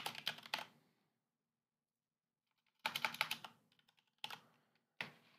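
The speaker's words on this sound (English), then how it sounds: "I know you guys can hear me typing." Typing on a computer keyboard, close bursts of rapid key clicks separated by a long silent pause, then several shorter clusters of taps, crisp and nearby in a quiet room.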